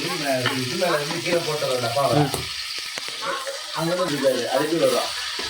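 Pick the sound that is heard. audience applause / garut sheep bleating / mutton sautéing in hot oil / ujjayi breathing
mutton sautéing in hot oil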